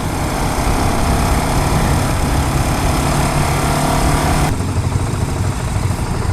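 A 2015 KTM Duke 690 motorcycle idles close by, loud and steady, with a lumpy, uneven beat. Near the end the engine note sags and thins as it nearly stalls.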